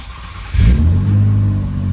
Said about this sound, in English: That was the first time we've ever heard this car crank.